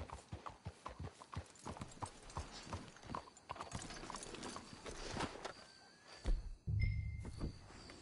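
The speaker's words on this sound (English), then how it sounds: "Let's hitch your horses up ahead." Horse hooves clip-clop in a steady trotting rhythm in the video game Red Dead Redemption 2, then slow and fade, followed by a brief thud and a low rumble.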